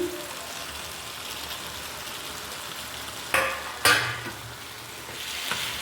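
Raw prawns tipped into a spicy tomato and brinjal curry frying in a pan. A steady sizzle runs throughout, broken by two sharp, loud bursts as they land in the hot mixture, then it settles back to a moderate crackle.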